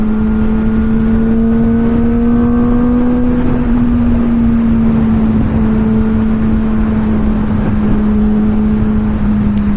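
A 2008 Kawasaki ZX6R motorcycle engine drones loudly at a steady, slightly wavering pitch while riding on a test drive, mixed with constant wind roar and no talking.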